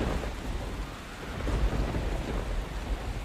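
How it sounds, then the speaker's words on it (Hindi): Thunderstorm in heavy rain, with a steady close roar of downpour and low rumbling thunder that swells slightly midway, with no voices. "तूफान तेज हो जाने की वजह से पेड़ की डाली गिरती है"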